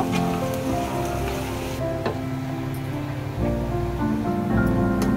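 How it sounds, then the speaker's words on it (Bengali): Garlic sizzling in hot oil in a pan, a steady close frying hiss that runs on without a break. No one speaks. "তো আমি দিয়ে দিলাম রসুন, একটু রসুনটাকে একটু লাল করে ভেজে নিব।"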